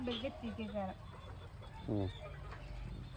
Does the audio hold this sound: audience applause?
no